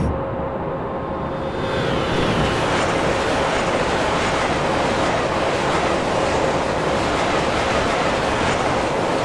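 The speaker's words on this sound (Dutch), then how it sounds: "Er komt nog een dikke cargo trein ons voorbij." Heavy freight train in Train Simulator 2017 rushing past, a loud, steady roar of rolling wagons and rail noise that swells early and holds for several seconds without pause.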